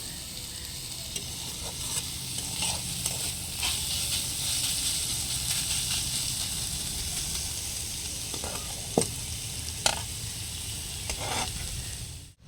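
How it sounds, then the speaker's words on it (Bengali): Chopped onions with green chillies sizzle in a pan for egg chops, a loud, steady hiss of frying with a few faint stirring scrapes and taps near the end. "পেঁয়াজটা একটু ভাজা ভাজা হওয়া অবধি আমি অপেক্ষা করব বন্ধুরা।"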